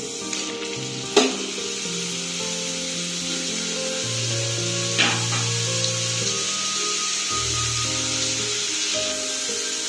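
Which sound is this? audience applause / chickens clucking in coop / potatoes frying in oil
potatoes frying in oil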